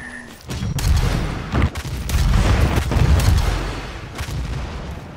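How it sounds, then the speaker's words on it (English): Shotgun fire in the DOOM multiplayer shooter game, heavy booming blasts rolling together into loud continuous gunfire and explosions, with dense low rumble throughout. "Another one with a shotgun!"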